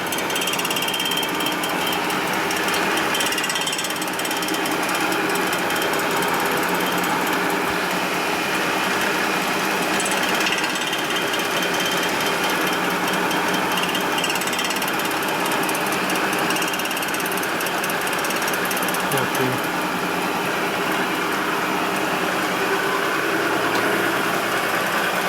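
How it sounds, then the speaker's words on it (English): Welding on a 1958 Harley-Davidson panhead cylinder head produces a continuous loud, crackling hiss that holds steady and unbroken for the whole stretch, with a faint low hum beneath it. "Redo the welding here."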